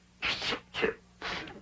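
Three short sneezes in quick succession, each a sharp burst with a breathy spray, close and fairly loud.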